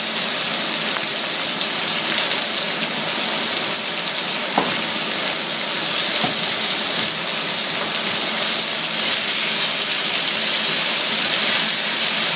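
Onions for beef bourguignon sizzle steadily in a hot pan, a dense continuous crackle and hiss with scattered pops, close and even throughout.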